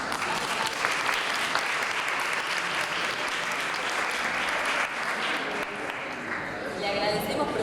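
An audience at a talk in Spanish gives thick, continuous applause, a loud steady wash of many hands that holds for several seconds, thinning slightly toward the end.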